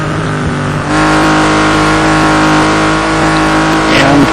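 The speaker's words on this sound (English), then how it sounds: "Mike Simian in the Porsche turns now." A Porsche race car at Le Mans drones with a loud, steady high-revving engine. The sound swells slightly as it holds speed, and commentary talk runs beneath it.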